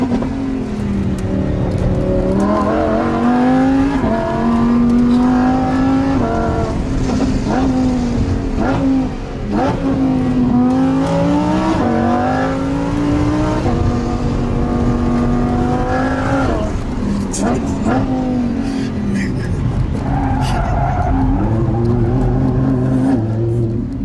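A 2020 Lamborghini Huracan Evo takes a sharp turn, its engine loud and close throughout, with the pitch rising and falling as the car revs and shifts through the corner.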